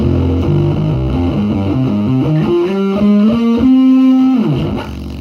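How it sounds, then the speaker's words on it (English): Loud, buzzing distorted guitar tone with harsh fuzz from a Mooer Lofi Machine bit crusher pedal, shifting through stepped notes, then cutting down near the end; no talking. "It's just fuzz coming out of the pedal."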